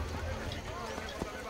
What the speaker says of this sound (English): Oh, look at this horse.